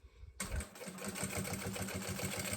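A sewing machine starts up and runs steadily, stitching fabric for a rolled makeup pouch, its close, rapid mechanical whirring repeating in a fast even rhythm.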